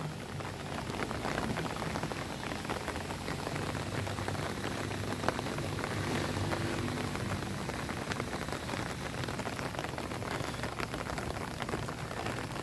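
Rain falls steadily on white and pink flowers at Zhuxi in Tainan, Taiwan, a dense, even hiss of drops that stays constant throughout with no voices.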